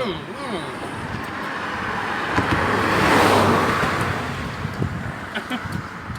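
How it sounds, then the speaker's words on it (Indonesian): A car passes by on a road near a bridge during a bicycle ride, its engine and tyre noise swelling to a peak mid-clip and fading, with people talking over it. "Itu mobil."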